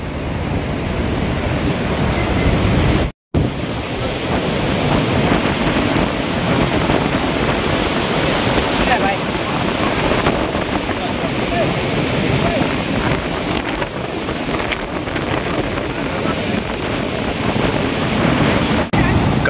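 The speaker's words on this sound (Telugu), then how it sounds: "ఇక్కడంతా వాటర్ జల్లు పడుతుంది ఫుల్గా" Heavy water spray and rushing flow at Nagarjuna Sagar dam, a dense continuous roar with wind buffeting the microphone, loud and steady throughout apart from one brief dropout.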